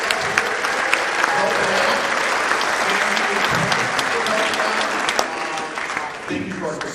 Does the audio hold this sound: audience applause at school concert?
yes